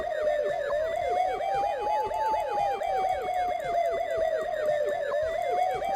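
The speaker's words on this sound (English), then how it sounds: "Doesn't warrant a response with lights and sirens," Police car siren in the video game Police Quest 1, a continuous electronic wail sweeping rapidly up and down in a steady yelp pattern, loud and close for the whole stretch.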